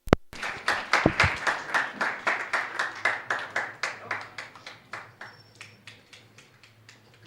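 A workshop audience claps together in a steady burst of applause that starts strong and gradually thins and fades toward the end, with no talking over it.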